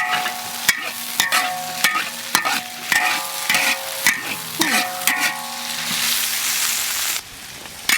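Beef tripe and pork stomach stir-fried in a wok for spicy tripe, a spatula clanging and scraping the metal in quick repeated strokes over a steady sizzle, close and fairly loud, with a brief lull near the end.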